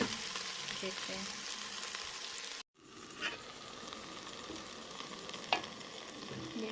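Okra and green chillies fry in a pan over high heat, giving a faint, steady sizzle. The frying breaks off briefly, and a few soft knocks of stirring sound in the pan.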